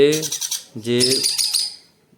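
Baby conure chicks give loud, shrill begging calls while being hand-fed, in two dense bursts of harsh chirping that trail off into quiet.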